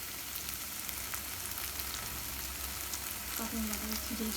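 Ginger and garlic paste frying in a pan with onion for chicken jhal fry gives a steady, soft sizzle throughout, with a brief faint murmur near the end.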